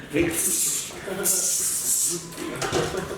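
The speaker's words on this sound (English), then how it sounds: "Sprays down the room." Spray hisses out across a room in two long bursts, a bright, close, steady rush of air with a short pause between them, while a voice talks underneath.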